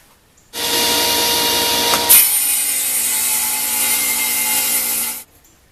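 A saw rips through wood pieces for a ceiling-mounted fishing rod rack, cut on a sled, as one continuous loud rasping whine lasting about five seconds, close up, with a brief catch partway through.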